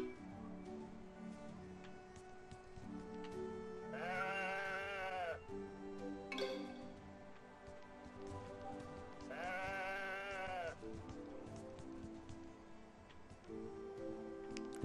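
Sheep bleat in the video game Woven, two clear bursts of wavering calls standing out over a steady layer of ambient game music and background rumble.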